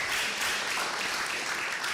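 An audience at a Tanzanian health summit applauds a surgeon as he takes the stage, a soft, continuous patter of many hands heard from a distance.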